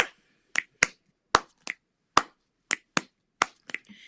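Sharp, isolated finger snaps and hand claps played in an uneven rhythmic pattern, about a dozen crisp hits with silence between them, close and clear with no other sound.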